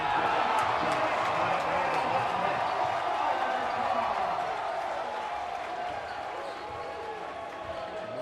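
A basketball crowd cheers and roars in a frenzy after early dunks in a men's college game against Montana Tech, a loud, sustained wash of noise that slowly eases off.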